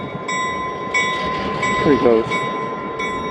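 F unit diesel locomotives idle and run at Steamtown, a loud steady engine drone with tonal hum and a short squealing wheel or brake sound midway, while someone speaks briefly.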